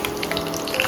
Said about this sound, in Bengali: মিডিয়াম ফ্লেমে এইভাবে বড়াগুলোকে